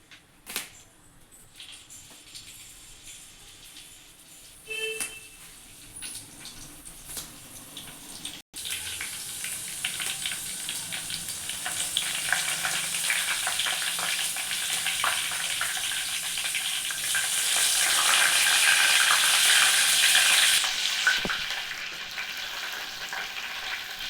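Thumbai leaves drop into hot coconut oil on a stove and start sizzling, a quiet start that swells into a steady, close hiss, loudest near the end, with no one talking.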